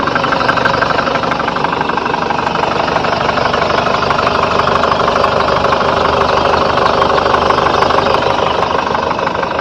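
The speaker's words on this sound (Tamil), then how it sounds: "வண்டியோட இன்ஜின் சவுண்டை அமைதியாக கேளுங்க" A Chevrolet Tavera ten-seater car engine idles steadily and loudly, with a constant low rumble and faint rhythmic knocking throughout, no voices present.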